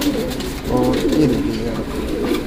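Homer pigeon cooing nearby in a repeated low throaty burble, while someone speaks briefly over the birds.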